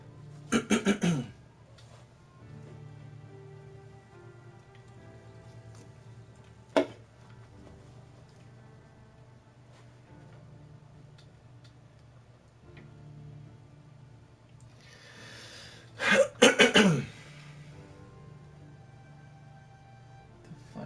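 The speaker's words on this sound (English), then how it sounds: "I always cough a lot when I eat." A few harsh coughs near the start and a burst of several more toward the end, close and loud, over a low steady hum.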